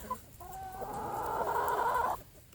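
Chickens cluck together close by, a short burst rising into a sustained run of overlapping cackles and clucks for about two seconds before falling quiet.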